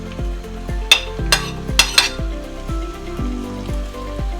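Onions cook in a pan for tacos, a soft sizzle under repeated low knocks and a few sharp scraping clinks of a utensil stirring, close and moderately loud, no talking.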